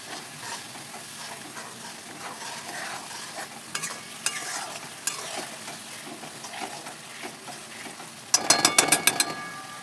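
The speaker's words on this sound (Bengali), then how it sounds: "এবার আমি ভালো করে কষিয়ে নেব, যতক্ষণ না তেল ভেসে উঠছে আমি ততক্ষণ কষিয়ে নেব।" Spices sautéing in oil for a chicken curry, a steady soft frying sizzle with a spoon scraping and stirring through the pan, ending in a burst of sharp metallic clinks near the close.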